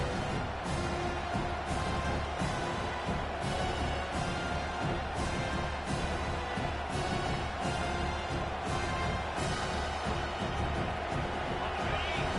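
A home crowd in a college football video game rumbles steadily in the background, a dense, faint roar with rhythmic swells of cheering and chanting as the defense tries to get off the field on third down.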